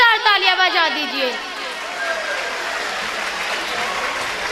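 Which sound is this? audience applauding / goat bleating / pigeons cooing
audience applauding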